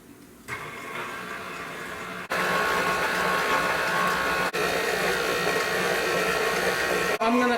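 An electric mixer beats the dry ingredients for sugar-free chickpea flour muffins. It gives a steady, loud whirring drone that starts softly, rises to full speed after about two seconds, then runs on continuously with brief dips.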